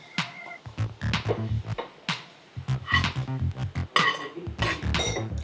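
Dry red chillies, freshly roasted, being tipped from a pan into a bowl, producing irregular clattering and scraping of metal with light rattling bits, close and fairly soft.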